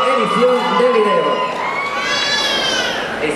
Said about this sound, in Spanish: fuerte el aplauso para Otaku Fest